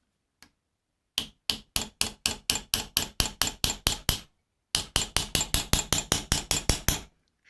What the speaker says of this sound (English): I'm just going to use a little hammer here and